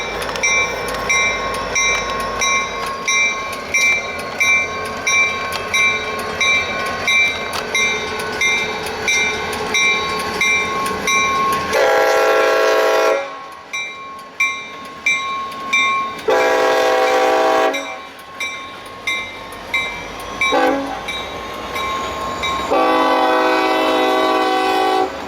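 Maryland Midland freight train UBHF moving along the line in wildfire smoke, its horn sounding in several long, loud blasts over a steady rumble of engine and rolling cars.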